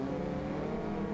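A Peugeot 205 rallycross car in DiRT Rally 2.0 drones steadily at high revs, a continuous dense engine roar with no pauses or other sounds.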